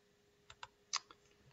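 A few separate clicks of a computer keyboard key being pressed, close and quiet, spaced irregularly over a faint steady hum.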